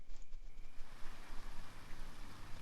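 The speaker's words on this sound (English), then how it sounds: "That rain's not gonna help." Rain in the video game NEO Scavenger falls as a steady, close, washing patter with gentle pulses, alone and without voices.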